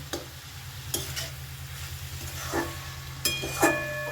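Cabbage ghonto is sautéed in a pan over a medium flame, with steady sizzling under a low hum and intermittent scraping clinks of a spatula against the pan.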